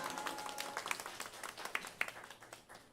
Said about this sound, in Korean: 나오실 때에 할렐루야로 박수로 한번 환영하겠습니다.